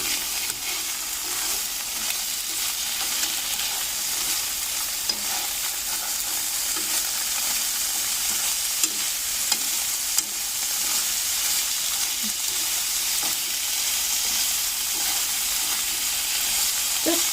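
Sliced bitter melon (goya) and tofu fry and get stirred lightly in a pan, giving a loud, continuous close sizzle with faint scraping, no voices.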